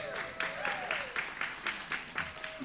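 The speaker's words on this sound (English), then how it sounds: "let's give a round of applause to everyone for their overwhelming support" An audience claps in applause at a winter solstice gathering, a steady wash of many hands with rhythmic surges, moderately loud and close, briefly mixed with a faint voice.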